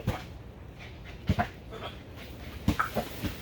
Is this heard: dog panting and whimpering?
yes